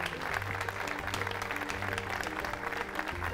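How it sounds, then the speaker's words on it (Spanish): Audience applause for a poet at an arts event, continuous clapping of moderate loudness over a low background tone, with no talk over it. "Un fuerte aplauso para Celia Frías."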